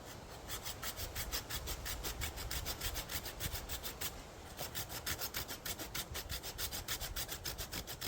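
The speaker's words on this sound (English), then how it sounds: "I just find doing the notches with the saw is a bit faster" A hand saw rasps rapidly through wood while cutting notches for cordage outdoors, a fast steady back-and-forth stroke rhythm, close and continuous with no talking.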